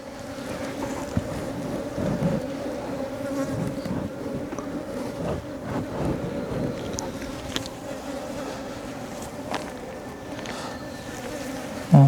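Honeybees buzz steadily around the entrance of a wooden box hive on a cold day, a dense continuous hum of many wings close by with individual bees droning past, no talking.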